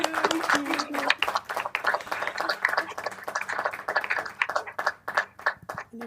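A small audience at a library talk claps for the speaker, sparse individual claps in an uneven rhythm heard fairly close, mixed with voices talking.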